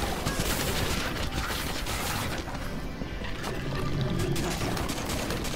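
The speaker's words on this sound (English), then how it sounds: "Why are they shooting at each other?" Enemies trading shots in Minecraft Dungeons, a dense, continuous clatter of rapid impacts and crashing bursts, loud and close, with no voices.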